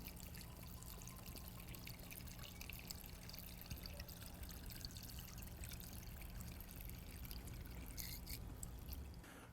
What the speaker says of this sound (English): now we're going to remove the filler cap and pour the product into the reservoir